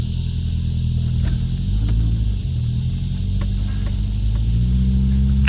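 A car's engine drones steadily while driving along Wiseman's Ferry Road north of Sydney with a window open, a low continuous rumble and hum with slight shifts in pitch and no talking.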